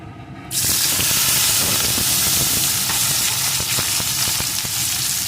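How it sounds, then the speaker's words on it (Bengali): Cauliflower stalks hit hot mustard oil in a pan and erupt into a loud, dense, continuous sizzle that starts abruptly after a brief quiet moment and holds steady, with light crackling and stirring, no voices. "তেলটা গরম হয়ে গেছে এখন এর ভিতরে আমি ফুলকপির ডাটাগুলোকে দিয়ে দেবো"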